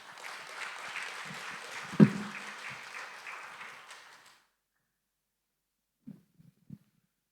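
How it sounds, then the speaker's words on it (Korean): Church congregation applauding to welcome a pastor, a steady wash of clapping for about four seconds that cuts off into near silence, followed by a few faint sounds. "큰 박수로 맞이해 주세요"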